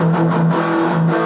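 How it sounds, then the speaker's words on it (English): An electric guitar played through a Behringer Ultra Metal UM300 distortion pedal gives a loud, dense, saturated sustained tone with a brief change in the notes, alone with no talk. "when I put on like the heavy metal distortion, actually this one's called the Behringer Ultra Metal"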